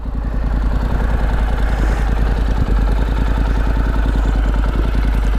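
A Honda NC700X 670 cc parallel-twin motorcycle engine idles close by with a steady, rapid low-pitched throb and light mechanical clatter, running evenly without revving.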